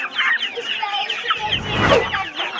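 A rooster clucks close up in a rapid series of short, bright calls, with a brief rustling thump partway through.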